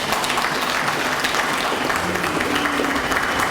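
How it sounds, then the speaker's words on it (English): Steady, dense applause from a large audience continues without a break, with a few faint voices mixed into the clapping. "give them a warm round of applause"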